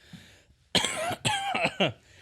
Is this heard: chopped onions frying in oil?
no